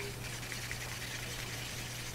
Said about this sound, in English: So I'm going to add a little water to it